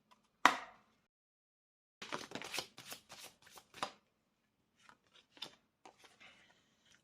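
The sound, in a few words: shuffling cards before drawing one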